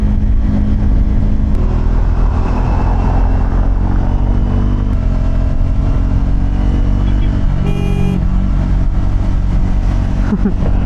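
Royal Enfield GT650 or Triumph Scrambler 400X motorcycles ridden at night, a steady loud low engine drone with wind rush throughout, a brief burst around the eighth second and a rising rev near the end.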